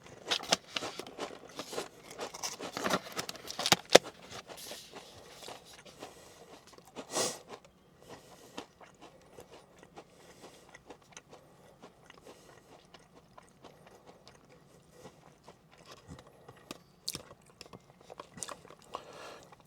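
Pringles Lite chips in Grilled Beer Brat, Beer Can Chicken and Beer-Braised Steak flavors are chewed close up, with irregular crisp crunches and bites that come in bursts, louder early on, then softer, sporadic mastication.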